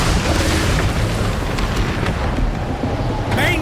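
Ship cannons fire in a naval battle in Assassin's Creed Black Flag, a loud, dense barrage of booms blending into a continuous roar with rumbling low end throughout.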